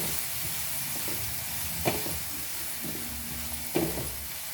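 Two finely chopped onions frying in oil after cumin seeds have popped make a steady, soft sizzling hiss, fairly quiet and even, with a couple of faint stirring knocks and no talking.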